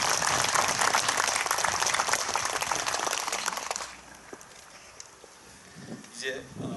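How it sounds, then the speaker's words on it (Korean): Audience applauding at a church opening service for a mission center, broad clapping from a gathered crowd for about four seconds before it drops away to quiet room noise and a few faint movements. "우리 장로님께 큰 박수 한번 부탁을 드리겠습니다."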